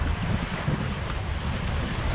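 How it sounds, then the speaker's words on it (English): A squall at sea sweeps over a sailboat flying a code zero and jib: a constant roar of wind buffeting the microphone mixes with rushing waves and water noise, loud and unbroken throughout. "there's a squall starting to come across the water now, so we're going to pick up speed"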